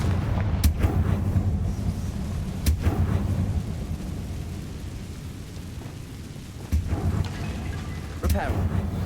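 A Confringo blasting spell in a Harry Potter video game, several deep booming blasts with sharp cracks spaced across a rumbling background, near and fairly loud.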